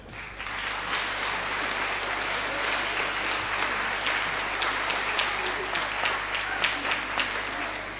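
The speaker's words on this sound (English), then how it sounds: "how about another round of applause for all our fabulous student performers today?" A concert audience applauds student performers at a school spring concert, sustained dense clapping from a large crowd filling the hall, steady and even throughout, with a few louder individual claps.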